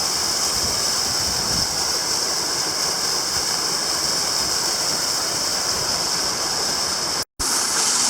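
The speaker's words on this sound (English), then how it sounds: "A waterfall" A waterfall in a Nevada canyon in the Sierra gives a steady, loud, broadband roar of falling water that fills the whole scene, with one brief dropout near the end.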